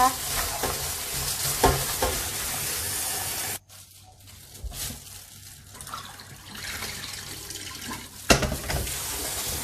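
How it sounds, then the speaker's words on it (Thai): Bitter melon being rinsed in water at a kitchen sink for a vegetarian stewed dish, with steady splashing and running water, a brief quieter gap midway, then more rinsing and a louder splash near the end. "เราก็จะนำมะระไปล้างค่ะ เราก็จะล้างสักสองสาน้ำนะคะ"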